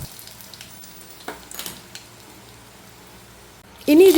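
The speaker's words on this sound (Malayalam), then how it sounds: "കടുക് പൊട്ടിക്കഴിഞ്ഞാൽ അതിലേക്ക് കുറച്ച് വറ്റൽമുളക് ഇട്ട് കൊടുക്കാം" Dried red chillies go into hot coconut oil with popped mustard seeds: a few short sizzling bursts over a quiet background, then a loud, abrupt surge of frying noise at the very end.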